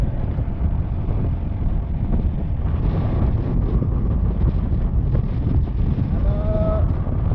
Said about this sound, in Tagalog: Simoy ng hangin eh, hangin talaga.